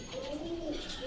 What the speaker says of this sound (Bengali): কবুতর তো ডাকবি, কিন্তু না ভয় করছে